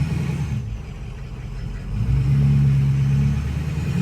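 A car engine rumbles steadily through a very large exhaust tip, then swells into a deeper, louder rev with a throaty exhaust drone before easing slightly.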